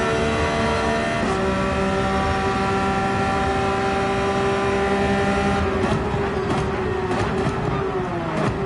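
Race car engines in Gran Turismo 7 at Monza drone steadily with a sustained high whine, shifting pitch as cars accelerate and brake, loud and continuous with no voices.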